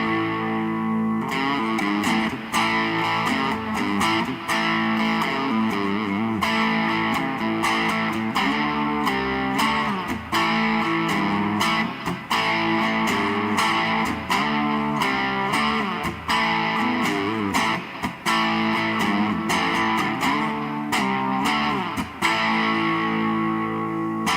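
An IYV IP350 electric guitar in black plays on an amp's crunch channel, with a driven, distorted tone and a steady run of strummed chords and riffs lasting throughout, with no talking.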